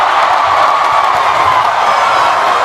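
A Filipino basketball crowd in an arena in Doha cheers loudly, a dense, continuous roar of many voices that holds steady without letup.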